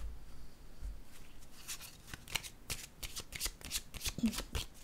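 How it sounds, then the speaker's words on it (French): Tarot cards handled and laid down during a card reading: a rapid series of crisp, close slapping and riffling shuffles, with soft rustling between and no talk. "Je vais déposer une autre carte."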